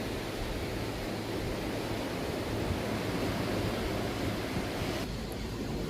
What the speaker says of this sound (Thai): น้ำทะเล